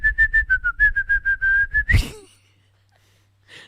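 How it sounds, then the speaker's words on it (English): A person whistles a quick, bouncy melody of short repeated notes, close and clear, ending abruptly with a breathy burst and a brief silence. "What's a melody that would be hard to whistle?"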